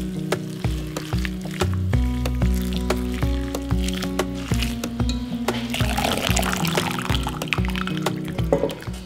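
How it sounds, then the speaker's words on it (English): Boiling water is poured over wasabi plants in a strainer, making a continuous close splash and trickle with clinks and knocks from the strainer throughout. "take the cleaned wasabi plants and pour boiling water over them"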